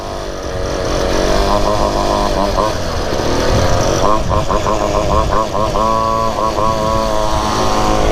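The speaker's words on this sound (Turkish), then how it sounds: "50 cc Kuba Pocket Bike'la Ankara sokaklarında geziyoruz." A 50cc Kuba pocket bike engine buzzes loudly and close while riding in city traffic in Ankara, its pitch rising and falling with throttle blips, with a voice talking over it.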